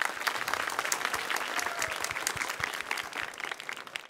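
A studio audience at a semi-final challenge show breaks into dense, steady applause. The clapping is loud and continuous, with a crowd murmur underneath.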